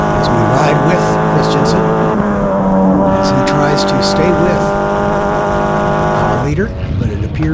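A Formula 4 race car engine revs hard at the NOLA SpeedTour race, a loud continuous high-pitched whine climbing through gears with a brief lift near the end, under race commentary.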